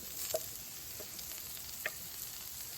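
Chopped chicken sizzles quietly on a charcoal grill grate of a Ñuke Delta grill, a soft steady hiss broken by a few small pops.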